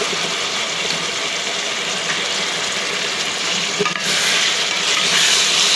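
Fish frying in a pan, a steady, dense sizzle that holds at an even loudness throughout without talk.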